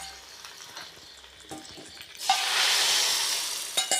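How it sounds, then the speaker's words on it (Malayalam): Mustard seeds fried in oil are poured into a boiling vegetable kuruma curry in a pot, setting off a sudden loud sizzle that swells and holds after a few light stirring clinks. "നമ്മൾ തിളച്ചുകൊണ്ടിരിക്കുന്ന കറിയിലേക്ക് ഈ കടുക് വറുത്തത് ഒഴിച്ചു കൊടുക്കാം"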